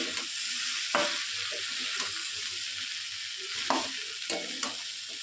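Vegetables and Maggi noodles fry in oil while being stirred, a close, continuous sizzle punctuated by a few sharp scrapes and clinks of the utensil.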